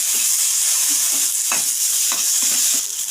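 Egg cutlet mixture with tomato sauce being stirred in a hot pan: a steady close sizzle of frying runs throughout, with several distinct scraping strokes of the spoon against the pan, no talking.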